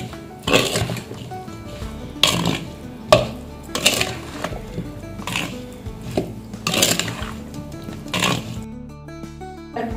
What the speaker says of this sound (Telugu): అన్నీ బాగా కలిసేలాగా కలుపుకోండి।